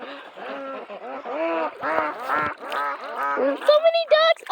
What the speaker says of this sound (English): So many ducks.